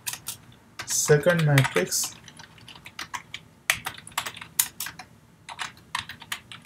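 C++ code is typed on a computer keyboard in quick irregular bursts of crisp key clicks, loud and close, with a brief spoken phrase early on.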